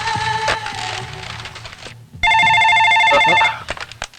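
A telephone rings in two bursts, an electronic ringing tone that breaks off briefly and then returns loud and steady before stopping. No one speaks over it.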